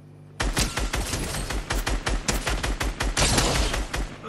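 Rapid bursts of automatic gunfire from a Fortnite match, loud and sustained, with repeated shots in quick succession after a brief quiet start.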